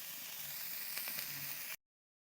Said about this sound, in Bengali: তো চলুন কাঁকড়াগুলোকে ভালো করে ভেজে নিই।